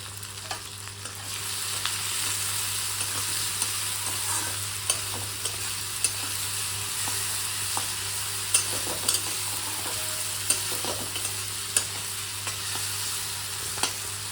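Capsicum and tomato pieces frying with salt in a pan, a steady close sizzle running throughout with occasional clicks of stirring, no voices.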